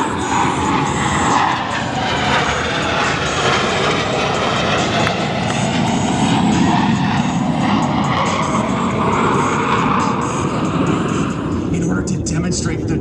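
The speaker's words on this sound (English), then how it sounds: "both aircraft are in the carrier landing configuration as they approach for a maneuver" Two Blue Angels F/A-18 jets approach in carrier landing configuration at the Cleveland National Airshow, a loud continuous roar of engines filling the air throughout, with a narrator speaking over the public address.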